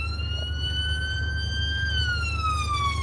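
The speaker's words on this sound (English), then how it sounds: "ambulance." An ambulance siren passes along a street, its loud wailing tone steady and then dropping in pitch as it goes by, over a low traffic rumble with no talking.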